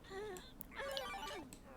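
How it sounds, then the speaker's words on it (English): A phone rings for a sim in The Sims 3, a quiet electronic ringtone chiming in short repeated bursts over faint game background sound. "Oh, someone's getting a phone call."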